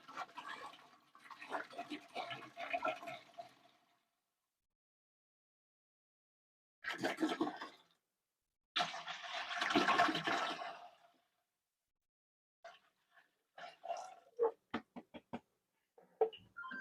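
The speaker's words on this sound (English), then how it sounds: "fill it back up with water and then dump that in" Water runs from a tap, filling a container for dyeing cotton yarn, in bursts of rushing flow separated by pauses, fairly faint and close, with a few scattered knocks near the end.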